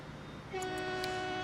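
EMD GP9 diesel locomotive in Transport Fever 2 starting up: a steady droning engine tone with a horn-like sustained pitch kicks in halfway and holds, accompanied by a few short high chirps.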